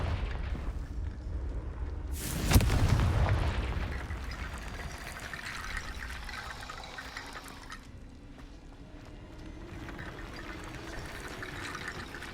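A Confringo fire blast spell bursts in Hogwarts Legacy, one sudden loud whooshing explosion followed by a long rumbling, watery fading tail and low ambient game sound.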